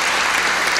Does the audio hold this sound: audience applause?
yes